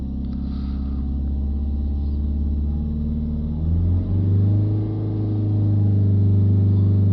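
Peugeot Expert van engine with a DPF fault, idling with a low steady hum and then revved and held near 3000 rpm, the drone rising in pitch and loudness and staying steady, close by with no talk.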